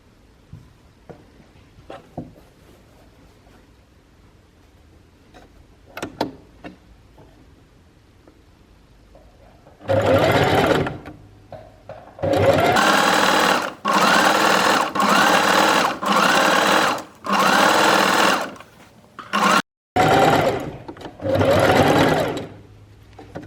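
A sewing machine stitches a straight line through fabric, running in several loud, close bursts of rapid mechanical whirring separated by short pauses, after a quieter stretch of light handling clicks.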